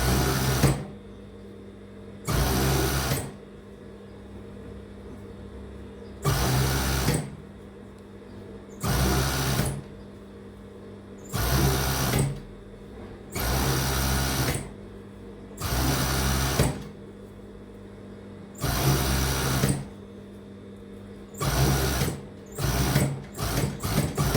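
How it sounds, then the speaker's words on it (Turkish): A sewing machine stitching elastic into a pajama waistband with a coverstitch, running in repeated bursts of a few seconds each separated by quiet pauses, close and steady, ending in quick short runs. "şimdi ben reçmede lastiğimi dikiyorum üst dikişine"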